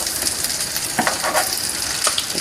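Korean round meat patties (donggeurangttaeng) are pressed flat as they pan-fry, giving a steady, close, crackling sizzle with a few brighter pops and no voices.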